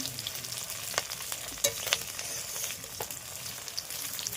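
Katla fish heads from a one-kilo fish fry in a pan, giving a soft, continuous sizzle broken by occasional sharp crackles and spatters, no voices.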